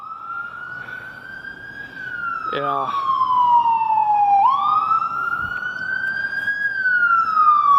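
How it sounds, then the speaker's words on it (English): An ambulance siren passes near Waikiki, wailing loudly in long rising and falling sweeps that stay prominent throughout, with brief talk and road traffic underneath. "here comes the ambulance again"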